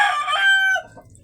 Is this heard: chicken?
yes